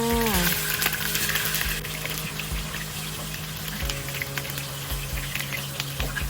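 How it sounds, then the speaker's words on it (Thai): Tofu fries in hot oil with an even bubbling sizzle and light spatters, accompanied by steady tonal background music and no speech. "เริ่มจากการทอดเต้าหู้เลยนะจ๊ะ"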